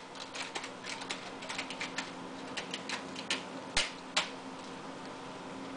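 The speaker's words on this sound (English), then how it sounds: "Who are you typing to?" A child tapping on a computer keyboard at home, irregular clicky keystrokes in uneven bursts with a couple of sharper louder strikes, fairly close, over a steady background hum.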